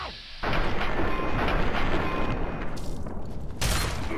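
Gunfire in the video game Fallout 3, a loud dense burst of shots and booms that fills most of the moment, pausing briefly before another blast.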